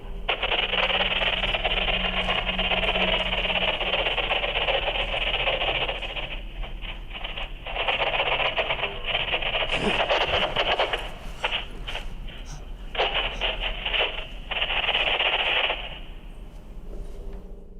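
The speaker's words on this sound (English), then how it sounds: "radio begins to act up once again" Static from a malfunctioning radio in horror footage: a loud, dense band of crackling hiss that runs almost continuously, breaking into choppy bursts and dropouts in the second half before fading near the end.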